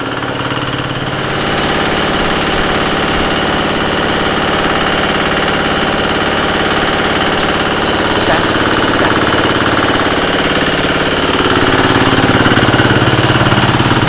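A motor runs steadily with a dense, loud, continuous drone and a rough mechanical chatter throughout, swelling slightly near the end, with no voices over it.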